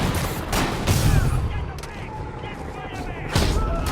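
Sniper gunfire in a Spider-Man video game cracks out in a few sharp shots and booms amid busy game effects, with a voice speaking over the action.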